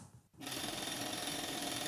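An overlocker stitches the side seam of a dress from the hem upward, starting abruptly after a brief quiet moment and then whirring in a steady, close, even hum.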